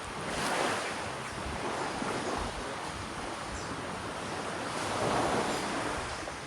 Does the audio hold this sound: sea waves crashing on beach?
yes